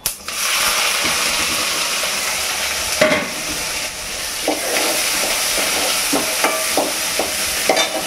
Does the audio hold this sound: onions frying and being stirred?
yes